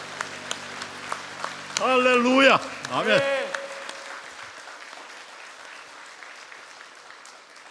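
A church congregation gives a burst of applause during a Sunday Easter worship service, loud clapping from many hands over a few seconds while a voice speaks and sung tones sound over it.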